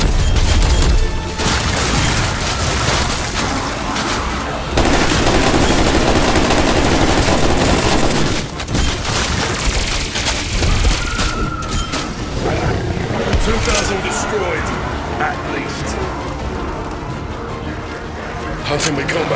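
Call of Duty Cold War gameplay in Onslaught mode fills with dense, continuous automatic gunfire and booming explosions, loud and sustained, with in-game voice callouts mixed in.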